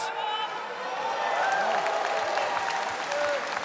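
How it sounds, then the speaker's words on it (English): Audience applause breaking out for a new 230-kilo record lift at a men's 88 kg powerlifting championship in Almaty, a dense sustained clapping with some cheering, loud and continuous under a commentator's voice. "A big hand of applause to a new record."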